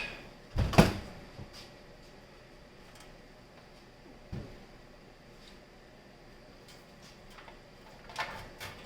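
A GPU mining rig frame being flipped over on a work surface, giving a sharp loud clunk, then a softer knock a few seconds later and a final rattle near the end, with quiet room noise between and no speech.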